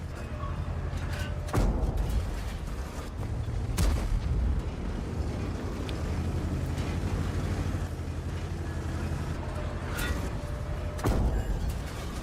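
Several heavy tank cannon booms from the Object 279 in World of Tanks go off a few seconds apart over a constant low engine rumble and mechanical clatter.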